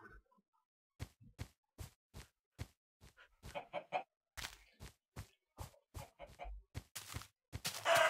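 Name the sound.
chickens clucking in the video game Minecraft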